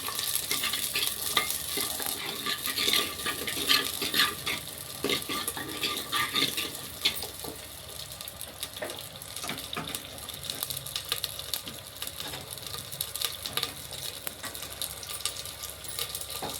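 Shallots sizzling in oil in a pan for anchovy curry, a constant crackling fry with intermittent light stirring and metallic clinks, close and without talk throughout.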